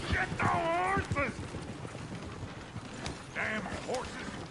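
Horses in the Red Dead Redemption 2 video game whinny twice in loud, wavering neighs, with hoof and movement noise between and voices talking over the scene.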